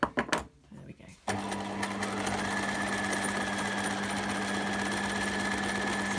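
A sewing machine stitches fabric for a simple two-zip pouch, starting after a few faint handling noises and then running in a steady, close, continuous whir.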